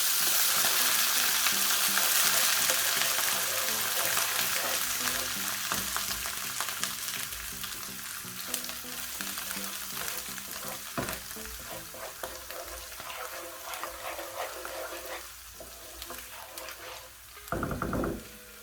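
Chopped ginger sizzles and is stirred in a hot frying pan with coriander powder for a Durban-style lamb curry, a dense, close frying hiss with scraping stir strokes that gradually settles, alone without talk.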